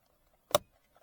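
A single short pop of a plastic trim clip releasing from a Toyota RAV4 Prime interior panel, close and crisp, in an otherwise quiet space.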